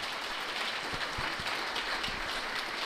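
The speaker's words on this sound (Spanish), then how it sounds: "Dale un aplauso bien fuerte al Señor." A church congregation claps for the Lord after a Spanish-language sermon, a dense, steady wash of many hands applauding at moderate distance, sustained evenly throughout without talking.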